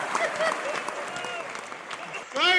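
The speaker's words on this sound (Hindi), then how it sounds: "तालियां जोरदार आनी चाहिए" Applause and cheering break out from an audience at a Hindi comedy poetry show, lively clapping heard close up under raised voices, swelling again at the end.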